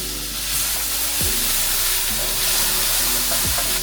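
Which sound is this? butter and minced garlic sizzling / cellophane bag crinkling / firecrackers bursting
butter and minced garlic sizzling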